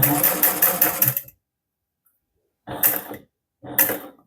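Sewing machine stitching a wallet: a fast mechanical run of needle strokes for about a second, a pause, then two short bursts of stitching, close and clear with no talk.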